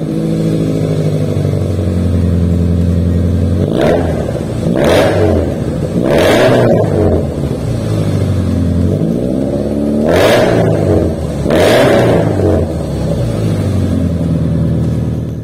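A Subaru Forester SUV engine revs hard through a loud exhaust in several sharp bursts, rising and falling over a steady idle rumble, close and forceful.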